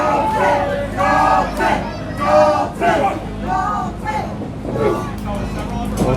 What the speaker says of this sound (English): The crowd is yelling and booing.